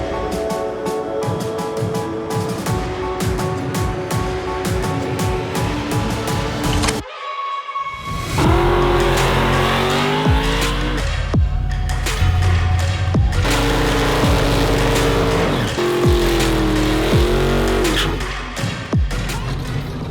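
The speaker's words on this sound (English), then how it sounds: "And so that's why we're here, Willowbank Raceway." Cars racing down the Willowbank Raceway drag strip, including a Ford Ranger Raptor on 35-inch tyres, with loud sustained engine roar and rising revs filling the scene, a brief drop near the middle, then more hard-revving engine noise.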